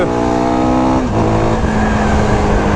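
A CFMOTO 250SR motorcycle revs in city traffic, its engine note rising and shifting pitch close by, with a steady road and traffic rumble beneath.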